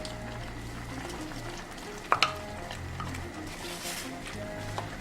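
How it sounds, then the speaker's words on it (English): Beef with seasoning, onion, fish and salt being stirred in a pot for Nigerian afang soup: a low steady simmer with a couple of sharp utensil clinks near the middle and faint scraping, close and quiet. "So I'll stir it together."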